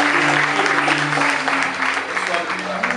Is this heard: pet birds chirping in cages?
no